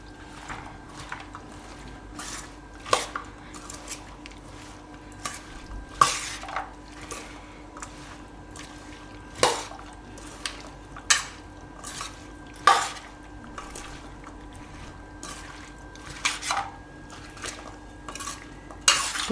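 Chickpea salad being mixed with curd in a bowl, a spoon clinking and scraping against the dish in an uneven series of sharp taps over a quiet background, with no talking.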